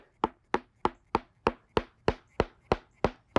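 Hammer blows on rock being split for a stone pathway, eleven sharp, evenly spaced strikes about every third of a second, close and loud, each ringing briefly with no talk.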